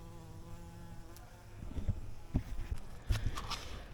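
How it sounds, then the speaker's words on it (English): Bees buzz and drone softly nearby on lemon basil in a backyard garden, joined partway through by rustling and light handling sounds up close. "I hear the bees over there on the lemon basil."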